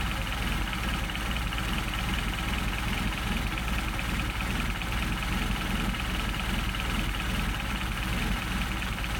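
A Mercedes 190SL engine idles steadily on Solex carburetors, a continuous low rumble with its speed easing down, close and unbroken with no talk over it.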